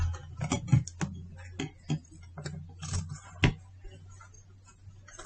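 Scissors snip through fabric at the armhole of a draped garment, a series of soft, irregular close clicks and cuts with quiet pauses between them.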